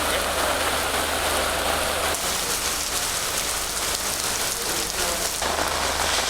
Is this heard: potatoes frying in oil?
no